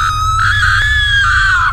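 A woman in a Free Fire video game horror story lets out one loud, sustained, high-pitched scream lasting nearly two seconds over a low rumbling background.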